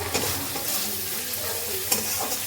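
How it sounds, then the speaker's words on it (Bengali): Prawns sizzle and crackle in hot oil in a pan, stirred with a utensil that scrapes now and then, with a steady close frying hiss and a few sharper clicks. "চিংড়ি মাছটা এই যে বসিয়ে দিয়েছি, এখন ভালো করে ভেজে নিই বলছি, ভেজে নিই"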